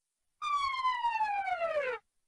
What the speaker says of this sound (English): Akbar leaves the command center and a few moments later an emergency siren sounds.